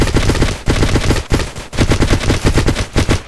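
Rapid automatic gunfire in the mobile game Vice Online, loud bursts of rattling shots in several runs separated by brief gaps, with no talking.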